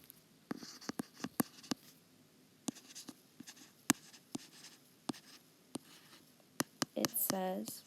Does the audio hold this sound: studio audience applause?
no